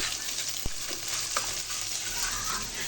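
Frozen paratha and egg frying in a pan for a roll, a continuous close sizzle with a sharp utensil tap and a few faint stirring scrapes, no voices.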